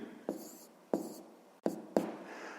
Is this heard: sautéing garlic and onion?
no